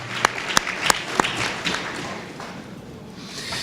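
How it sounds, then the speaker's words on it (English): At an MLK breakfast event, an audience applauds the Knights of Zion of Belmont Street AME. A few sharp, close hand claps ring out first, then the clapping thins and fades toward the end. "And one more round of applause for the Knights of Zion representing Belmont Street, AME."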